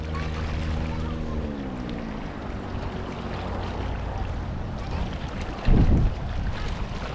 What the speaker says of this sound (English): Getting a bit windy too.